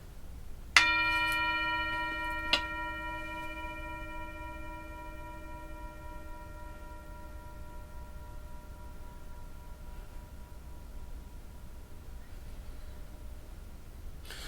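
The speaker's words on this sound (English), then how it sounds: "I'm going to ring the bell. I'm going to ask you to listen carefully." A single bell is struck once, followed quickly by a second strike, and its clear resonant tone lingers and slowly fades over many seconds.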